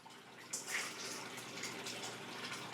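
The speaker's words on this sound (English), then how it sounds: "I like to pour it right where the water is actually coming into the tank." Water pours steadily into a large aquarium tank during a water change, giving a continuous close, hissing splash with small bubbling bursts and no voices.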